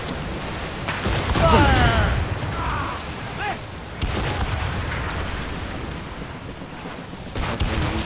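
Ship cannons firing in a naval battle in Assassin's Creed Rogue, heavy booms and rumbling blasts over wind-like roaring, with a few voices calling out in between.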